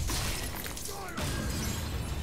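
A stalactite shattering in Stranger of Paradise, a loud crashing burst of breaking rock set against dense, noisy game sound.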